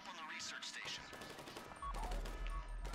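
Gunfire during a GTA 5 Online heist shootout, rapid bursts of rifle shots crackling through the mix, with a low rumble building near the end.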